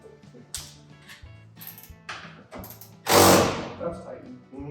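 A ratchet wrench tightens a bolt during a 6.0L LS engine swap on a 1972 Chevrolet C10, with close, rapid clicking strokes in short bursts and one louder, longer pull near the end.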